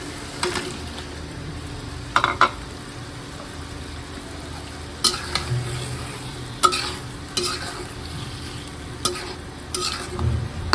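Taro frying in spice paste in a pan, with a low steady sizzle broken by repeated scraping stirs of a spoon, close and fairly quiet.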